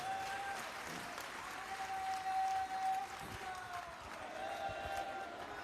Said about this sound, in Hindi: ताली बजाओ परमेश्वर के लिए।